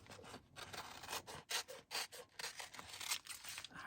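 Scissors trim paper cutouts for a circle-background craft, giving faint, quiet rasping snips in short uneven bursts, one after another, with no voice heard.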